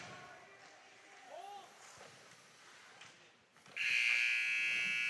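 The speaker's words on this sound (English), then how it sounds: "And there's the buzzer ending the first period." A loud, sustained electronic buzzer ends the first period of an 18U ice hockey game, cutting in over a low murmur of arena crowd noise.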